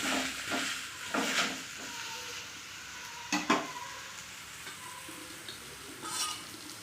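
Ragi adai is flipped on a hot pan with a few sharp scraping stirs of a spatula, then a low, steady sizzle of frying continues underneath, close and fairly quiet, with no voices.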